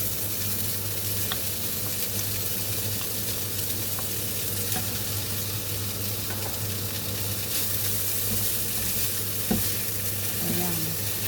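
Salmon stirred into rice frying in a pan, with a steady, close sizzle running throughout and faint spoon scrapes and clinks here and there.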